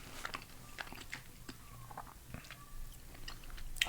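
Soft, chewy oatmeal cookies being eaten close to the microphone, with quiet irregular chewing and small moist bites and no real crunch, faint and intimate in a whispered setting.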